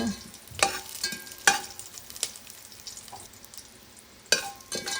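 Curry leaves hit hot oil in a pan for Mangalore-style patrode gasi, setting off a low steady sizzle with several sharp spattering bursts scattered across the clip.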